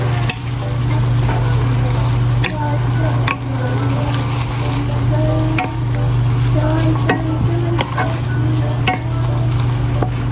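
A mixture stirred in a frying pan, steady sizzling with sharp periodic scrapes and taps of the utensil against the pan, close and continuous over a low kitchen hum, with talk in the background.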